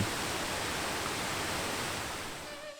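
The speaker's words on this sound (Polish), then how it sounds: "kontemplować chwilę w otaczającym cię dookoła szumie spadającej wody" Falling water at the Głomnica waterfall in Zdrój in the Beskid Sądecki hills on an autumn day, heard as a dense, constant roar close by that fades slightly at the very end.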